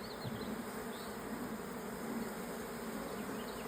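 Bees buzzing steadily around a large, crowded hive during a hive inspection, a close, continuous hum filling the whole span without speech.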